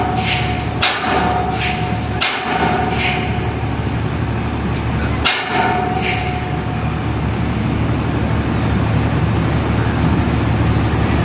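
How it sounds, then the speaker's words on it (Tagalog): Workers hammering on crane parts during the removal of an old crane at Arroceros, a few sharp metallic strikes spaced seconds apart over a constant background rumble of site noise. "Pinupukpok pa nila ulit yan."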